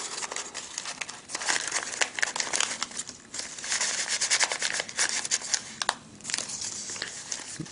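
Paper being folded into an origami rose gives close, continuous crinkling and rubbing, with soft creasing scrapes and brief pauses, no one talking.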